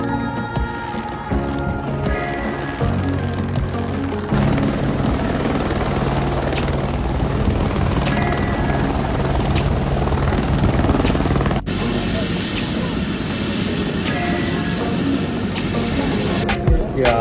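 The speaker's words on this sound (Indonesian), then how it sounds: "Nurdin yang tiba menggunakan helikopter mendarat di bandara" A helicopter landing at a regional airport, its steady loud rotor thump and turbine whine running continuously for over fifteen seconds, with faint voices underneath.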